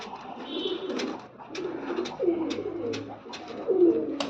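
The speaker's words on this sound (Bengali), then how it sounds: "3য় নম্বর জোড়ার মাদি কবুতরটা এটা।" A female pigeon coos in low, soft, repeated phrases nearby, with a few sharp clicks and rustles between calls and no voices.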